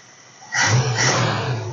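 A 1966 Dodge Charger 318 V8 with a bolt-on Carter carburetor is quiet at first, then its engine note rises into a loud, rough roar that holds steady, close to the listener.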